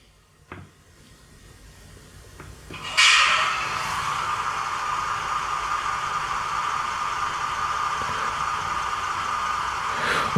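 ESU sound decoder engine noise from a Deutz KG 230 B model locomotive, a click or two, then a steady hissing, whirring engine sound that starts abruptly and runs on evenly.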